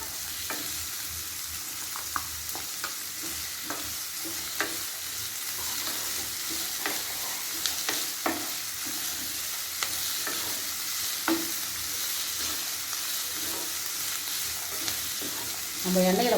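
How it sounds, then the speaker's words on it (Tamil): Snake gourd and onion sautéing in oil, with a continuous frying sizzle and irregular spatula scrapes and taps against the pan throughout; no voices. "வெங்காயம் வதங்கும் போதே புடலங்காயை போட்டுக்கணும்."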